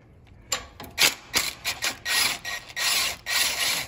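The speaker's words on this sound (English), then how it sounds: "My swivel socket is a 3/8 impact, 9/16, and I'm gonna take this off here." A ratchet turns a 9/16 swivel impact socket on a 3/8 drive to loosen a bolt on a Craftsman riding tractor during engine removal, producing a close series of quiet clicking and grinding bursts, with a few short strokes followed by longer ones.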